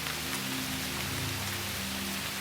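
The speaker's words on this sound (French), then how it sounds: "Aujourd'hui, c'est journée de pluie." Steady rain falls on a surface on a rainy day, a dense, continuous hiss of drops with no talk over it.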